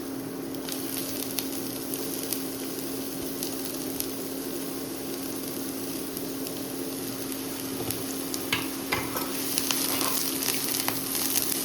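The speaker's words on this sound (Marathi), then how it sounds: "सो फर्स्ट आमी दवरला पॅन, घालता तेल, घालता कांदो." Onion frying in oil in a pan, a steady soft sizzle with faint crackles and a low hum throughout, growing a little busier near the end; no talk.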